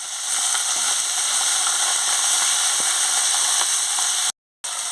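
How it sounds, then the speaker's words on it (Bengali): Spice paste frying with a splash of water in a pan for a Bengali chachchari, a steady close hiss and sizzle with faint scattered crackles running throughout before cutting off briefly near the end. "সামান্য একটু জল দিয়ে মশলাটাকে ভালো করে ভেজে নিচ্ছি।"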